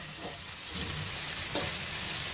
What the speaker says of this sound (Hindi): मसालों के साथ मैं इसको 1 मिनट तक भूनूंगी ताकि मसालों की थोड़ी सी खुशबू आना शुरू हो जाए